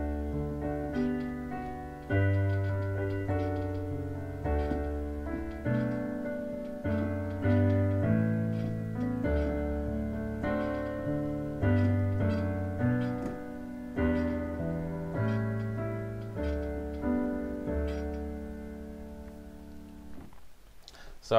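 Slash-chord progression of the hymn "Christian, Seek Not Yet" played through as steady, sustained chords over a held bass, moderately quiet and close, with no talking.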